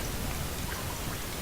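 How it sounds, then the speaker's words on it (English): Heavy rain falls steadily in The Solus Project game world, a loud, even, dense hiss of drops pattering on surfaces without pause, with no voices over it. "it is raining quite a lot, and the weather's not particularly nice"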